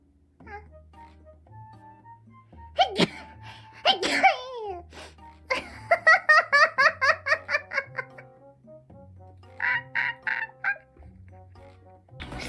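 A livestreamer lets out a sharp sneeze amid bursts of giggling, rapid rhythmic laughter and playful vocal noises, all close and fairly quiet overall.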